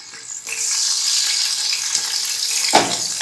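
Ginger garlic paste fries in hot oil in a degchi for a rice dish, giving a steady, bright sizzle throughout with a faint clink near the end.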